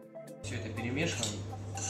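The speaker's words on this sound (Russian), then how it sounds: "Все это перемешиваем" Fish salad with potato and celery gets stirred in a bowl for a traditional Siberian northern-fish dish, soft clinks and scraping of utensil against dish under a speaking voice.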